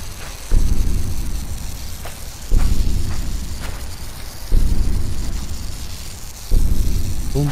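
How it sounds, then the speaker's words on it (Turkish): In a horror video game, harsh crackling sizzle bursts roughly every two seconds, each starting with a loud low-heavy surge and fading into hissing static, loud and close with no voices. "Bir cızırdama sesi var."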